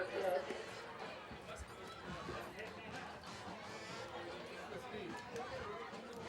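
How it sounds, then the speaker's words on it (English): Student crowd chattering in the bleachers at a high school football game, a steady wash of many overlapping voices with no break, moderately loud and diffuse as if from across the stands. "Crowd really seems to be having a good time down there. They're milling about, talking."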